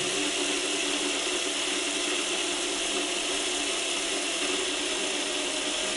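Drivetrain of a MAN TGS 8x8 RC dump truck spinning with its differential locks off: a continuous, even mechanical whir of gears, close and steady for the whole stretch, with no voices.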